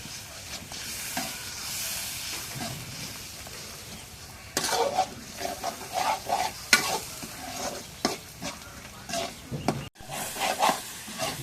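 Spices with turmeric powder and chili powder frying and being stirred in a pan, a steady sizzle with repeated scraping strokes of a spoon that grow louder midway, no voices.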